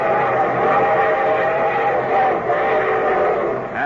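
Steam train sound effect for a vintage radio show, a steady loud chugging rumble with hissing noise running throughout, no talking over it.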